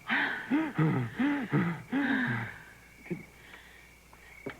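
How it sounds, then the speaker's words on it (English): A woman doing a deep breathing exercise, with several loud, voiced breaths drawn in quick succession, then quieter sighs and small sounds trailing off. "I do my deep breathing exercise."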